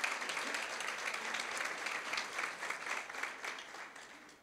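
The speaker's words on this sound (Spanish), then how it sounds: "Un aplauso para este producto" An audience applauds during an in-store beauty product presentation, with dense, steady clapping that sounds moderately distant and fills the whole stretch without voices on top.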